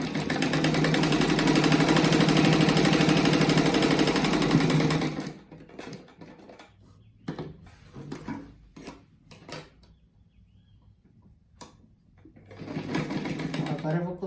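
A sewing machine runs steadily for about five seconds, stitching a seam around a rug made from reused fabric, then stops; someone talks over scattered handling noises before the machine starts up again near the end.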